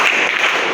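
A classroom of students clapping on cue, producing a short, dense burst of hand claps that fills the moment evenly at close range.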